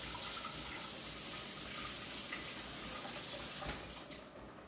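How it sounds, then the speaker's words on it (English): Running tap water splashes steadily as thyme, scallion and pepper are rinsed for Jamaican country-style chicken, a continuous close hiss that tapers toward the end. "I'm going to wash my thyme, my scallion, and my pepper before I put them in the pot"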